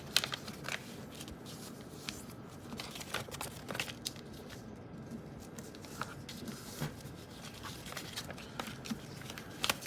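A sheet of paper is creased and folded into a paper airplane, giving soft crinkles and sharp little snaps in an irregular run, quiet and close up.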